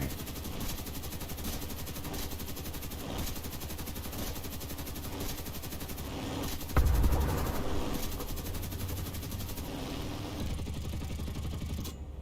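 Aircraft rear gunner firing a machine gun in War Thunder, rapid continuous bursts chattering over a droning engine, with one sharp louder thump midway.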